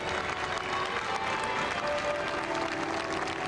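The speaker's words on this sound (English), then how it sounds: "you can hear the people applauding" Crowds lining the streets applaud Princess Diana's funeral procession in London, a wide, continuous wash of distant clapping that holds evenly throughout, with no single hands standing out.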